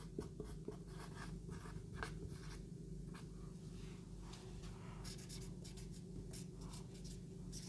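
A marker scratches steadily across a board as numeric values are written during a computer science lecture, a close continuous rubbing with short strokes over a low room hum.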